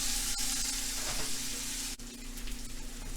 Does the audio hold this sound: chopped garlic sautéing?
yes